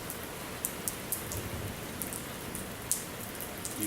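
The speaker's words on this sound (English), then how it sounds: "Hey Brody, it's raining." Light rain falls steadily near a truck, a soft continuous hiss broken by scattered sharp drips and drops landing close by on hard surfaces, with no talking.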